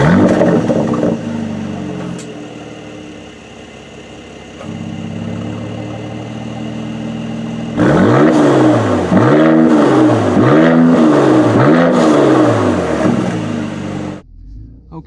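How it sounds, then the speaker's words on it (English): A 2020 Mercedes-AMG C 43 4MATIC sedan idles steadily through its exhaust, then revs up repeatedly in rhythmic bursts, each rev rising and falling, before cutting back near the end. "here is a little exhaust clip for you"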